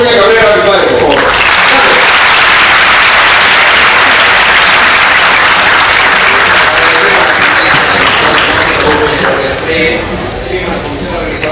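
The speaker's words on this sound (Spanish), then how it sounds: "Y un fuerte aplauso a Raúl Peña Cabrera, mi padre, por favor" Loud, strong applause from a conference audience honouring a speaker, a dense wall of clapping that swells quickly after a brief voice and holds steadily, easing a little near the end.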